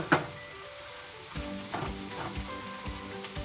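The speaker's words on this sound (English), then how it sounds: "about 4 strips of bacon. Give that a stir." Bacon strips fry with apples and onion in a pan, a steady soft sizzle broken by a few scraping stirs from a utensil, close and without talk.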